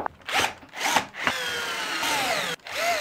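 A power drill drives four screws back in from underneath a router table fitting, several short whirring bursts with brief pauses, close and loud.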